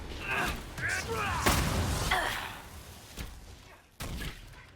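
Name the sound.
explosions in video game Dragon Age Inquisition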